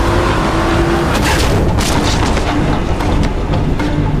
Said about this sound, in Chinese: 瑞克见此直接油门踩到底撞了上去